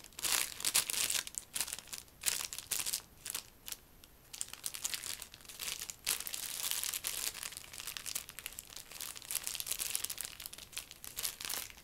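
Plastic packet crinkling and rustling close up for the whole stretch, with bursts of crisp crackle and brief pauses in quiet surroundings.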